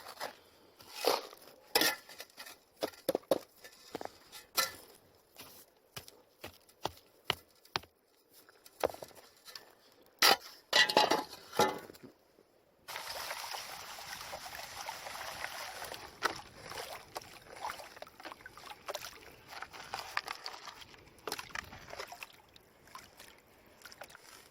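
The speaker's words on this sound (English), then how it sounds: "I'm going to go do a test pan right over there now." A gold pan is worked in a creek, with irregular splashes and sloshes of water and gravel, then a steadier stretch of swirling water and trickling, close by with no talk.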